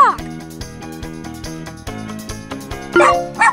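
Cartoon puppy barks ring out in the Super Why Puppy Day Care game, a few short yips set over bouncy repeating game music, with a chirpy voice joining at the end.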